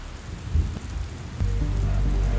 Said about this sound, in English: They sailed on the vast ocean for many months as rain kept falling.